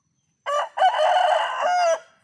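A single loud rooster crow rings out close by, a long strained call lasting over a second against otherwise silent surroundings.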